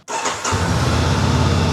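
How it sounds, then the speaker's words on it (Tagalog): Honda NX500 with a 471cc parallel twin engine starting up and then running at a steady, smooth idle, loud and close with no talk. "Ito naman ang sound ng 471cc parallel twin engine"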